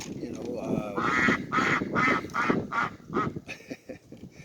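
A duck quacks in a quick series of loud, close, nasal calls, with a voice mixed in.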